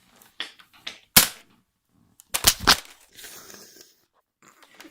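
Toy guns firing, a few sharp snapping shots scattered among quieter clicks and rustles, close by in a quiet room, no speech.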